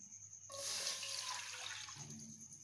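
A cup of water is poured for a sauce in a home kitchen, a sudden rushing splash starting after a brief pause and continuing steadily before tapering off, close and fairly quiet, with no talking.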